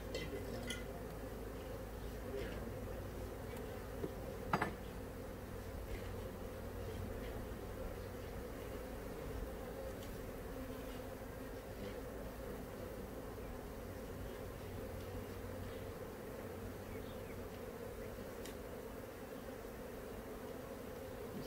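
Honeybees buzz in a steady, dense drone around an open hive during a beekeeping inspection, close and continuous with no talk over it.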